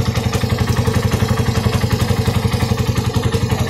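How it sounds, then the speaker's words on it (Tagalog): A Raider 180cc carbureted motorcycle engine with a gutted stock pipe, freshly rebuilt, idles close by in a steady, even chug of rapid regular pulses with a light mechanical clatter. "Sobrang tahimik na makina."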